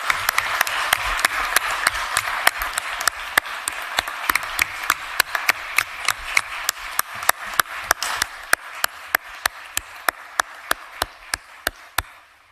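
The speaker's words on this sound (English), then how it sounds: "Let's give our manager a round of applause for that presentation" Applause at a county commission meeting after a manager's budget presentation, a crowd of hands clapping steadily and fairly close, thinning over several seconds to a few distinct, sharp claps that slow down and fade out.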